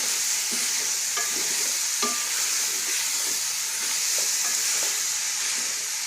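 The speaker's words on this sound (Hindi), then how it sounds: "1-2 मिनट हम इसको भूनेंगे अच्छी तरह से।" A spice mix for potato and fenugreek curry fries in a pan, giving a steady, loud sizzle with occasional stirring scrapes and clinks throughout.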